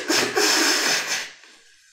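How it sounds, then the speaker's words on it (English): A person blows their nose close to the microphone in two or three quick, breathy honks that trail off into quiet after about a second. "for blowing my nose."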